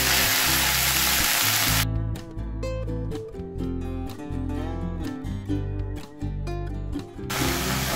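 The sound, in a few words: spinach-like greens added to hot oil with garlic, sizzling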